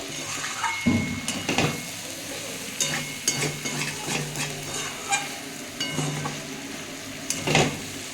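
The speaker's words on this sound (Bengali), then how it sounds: "এগুলো আমি একটু একটু নাড়িয়ে দেবো" Malabar spinach greens frying in a pan and being stirred, with intermittent scraping strokes of a utensil over a soft sizzle.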